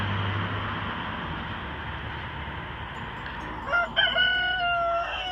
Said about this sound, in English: You see the hens there inside.